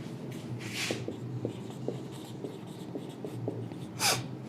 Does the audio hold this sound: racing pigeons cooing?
no